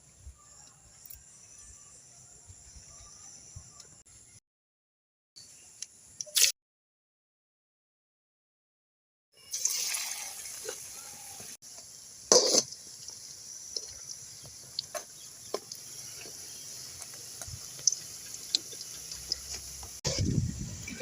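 Balls of spiced raw banana bonda dough drop into hot oil for village-style frying, bringing a steady crackling sizzle with sharp pops after a quiet start and a brief break.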